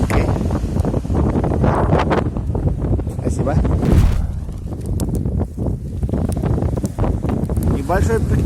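Strong, cold wind at the seashore, beside a campfire at a picnic, batters the microphone in gusty roaring bursts, loud and close, while people talk briefly over it.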